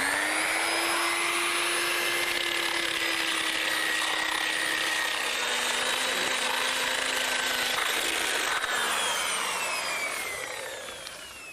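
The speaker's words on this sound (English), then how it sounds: "This is specially made for taking or cleaning up brickwork, and you have to use it very flat on the surface with this sort of grinder" A grinder held flat against brickwork to clean it up during an ex-pub conversion into a house, giving a loud, steady high-pitched whine with a gritty abrasive hiss that holds for about ten seconds before tapering off.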